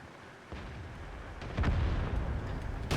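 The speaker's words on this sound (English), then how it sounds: "I put in my second shot." A tank cannon shot in World of Tanks, heard as a heavy booming blast with deep rumble over a continuous engine-like roar, followed by another sharp report at the end, loud and close.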